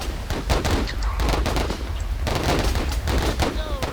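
A machine gun firing in a World War I battle game, dense rapid bursts of gunfire with booming low rumble, close and loud with no break.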